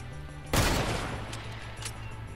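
Gunfire in the video game Fortnite: a single loud, sharp burst with a long ringing decay, followed by faint echoing pops, heard close and with no talking over it.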